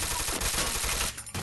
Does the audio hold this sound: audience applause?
no